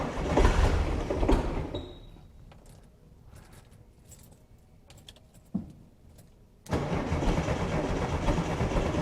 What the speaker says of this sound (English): Let's see if she starts and idles any better with just the base, what have you, idle setting.